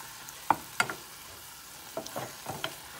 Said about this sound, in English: we're gonna mash this meat until it becomes brown